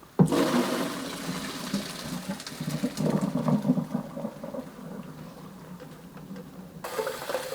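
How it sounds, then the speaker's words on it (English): Excess water drained from a pot of boiled rice, a loud rushing gush that starts abruptly and keeps splashing and gurgling for several seconds, close by and with no speech. "All right, it's been time to just drain the excess water."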